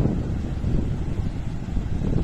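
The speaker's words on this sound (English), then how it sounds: "Sorry about the wind, but it's kind of windy today." Wind blowing across the microphone on the beach at Surfers Paradise on the Gold Coast, a steady low rumbling buffet with no other clear sounds.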